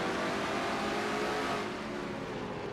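Stock cars racing through the turns at Martinsville in a racing video game, a dense, continuous engine roar that eases off slightly partway through, with no talk.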